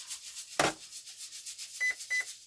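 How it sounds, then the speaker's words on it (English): A Radiolink CL9030 brushless ESC gives two short, evenly spaced calibration beeps near the end, quiet and close, after a single soft thump, with no voices. "turn on the ESC and wait for 2 beeps"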